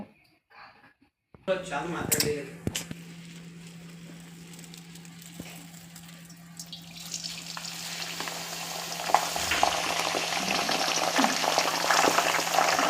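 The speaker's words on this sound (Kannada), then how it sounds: "ಫುಲ್ ಬಿಸಿ ಆದಮೇಲೆ ಒಂದೊಂದಾಗಿ ಎಲ್ಲ ಲೀವ್ಸು ಎಲ್ಲ ಕಾಳುಗಳು ಎಲ್ಲ ಹಾಕಬೇಕು" Herbal leaves and seeds for homemade hair oil drop into fully heated oil after a quiet start, setting off a sudden burst of crackling that settles into steady sizzling frying, growing fuller toward the end.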